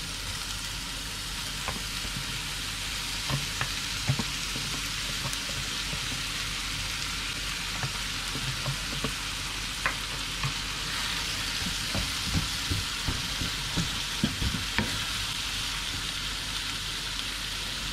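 Ground beetroot sizzles and fries steadily in a pan for a mixed beetroot pickle, a dense continuous hiss close by, with occasional soft scrapes and taps of stirring.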